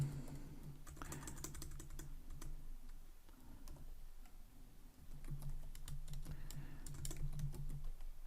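Faint, quiet clicking of computer keyboard keys while code is typed, irregular bursts of keystrokes with a low hum underneath.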